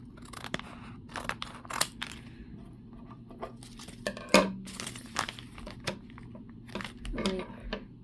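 Scissors snip and slice open the cardboard packaging of a Space Nanoblocks box, with sharp irregular cuts, a louder snap near the middle, and crinkling of the wrapping close by.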